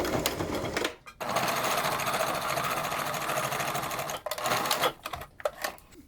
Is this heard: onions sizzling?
no